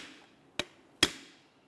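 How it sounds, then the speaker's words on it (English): A hammer strikes a punch against a BMW X3 transfer case actuator casing twice, each hit a sharp, close metallic tap with a short ringing tail and a pause between them. "For this, I'll use a hammer and punch."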